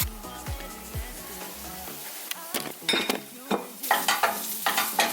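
Onion frying in oil in a pan for scrambled eggs, with a steady sizzle, stirring scrapes and clinks of a utensil against the pan, growing busier toward the end.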